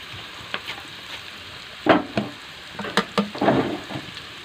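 Chicken masala with chilli, turmeric and garam masala stirred in a frying pan, giving sporadic scraping strokes and bursts of sizzle, close up with quieter gaps between strokes and no voices.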